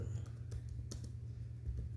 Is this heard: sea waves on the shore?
no